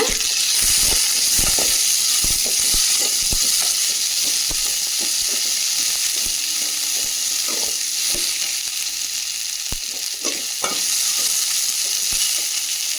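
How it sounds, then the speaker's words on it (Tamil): Small shallots and about ten sliced garlic cloves sauté in oil for fish kulambu, a steady, bright sizzle throughout, with scattered close clicks and scrapes of a spoon stirring the pan. "கட் பண்ணி வச்சுருக்க சின்ன வெங்காயம், அதோட இது மாதிரி சின்ன ஸ்லைஸாக கட் பண்ணியிருக்க பூண்டு ஒரு 10 பல் போட்டுக்கோங்க."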